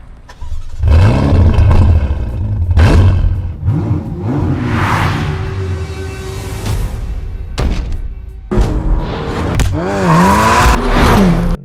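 A V8 engine roars and revs hard toward almost 7,000 RPM, rising and falling in pitch through several loud bursts with brief gaps between them.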